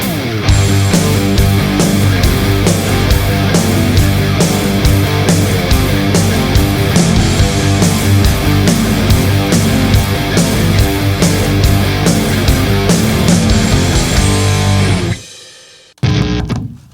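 A loud, dense rock band plays a song continuously with driving drums, distorted guitars and bass, then cuts off abruptly near the end.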